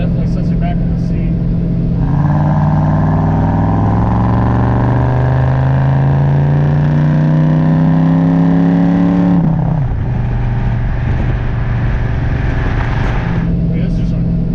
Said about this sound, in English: that engine compartment's beautifully detailed. Has an awesome sound. Definitely sets you back in the seat.